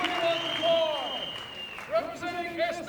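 A local disc golf gallery at the 2023 European Championship cheers and applauds for the Estonian player Albert Tamm, with sustained shouts, whistles and scattered clapping that swell and fall in waves.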